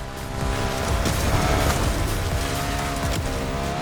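A BMW R1200 GS adventure motorcycle in The Crew Motorfest, its engine a steady, loud, continuous drone with harmonic whine and some tire noise throughout.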